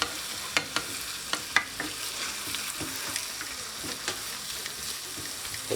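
Roasted tomatoes and shrimp cooking in a pan, a close, even sizzle punctuated by sharp stirring knocks and scrapes at irregular intervals.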